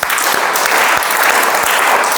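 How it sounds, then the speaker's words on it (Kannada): Loud, dense applause from an audience at a children's event honouring parents, a steady wash of many hands clapping together without a break. "ಜೋರಾದ ಚಪ್ಪಾಳೆ"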